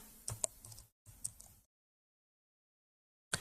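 Quick, light typing on a computer keyboard in Microsoft Access, a few soft key clicks in two short bursts, then silence and one last tap.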